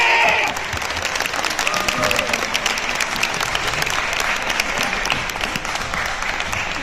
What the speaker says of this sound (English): Can we give a round of applause to this team right here for all the work that they've been doing?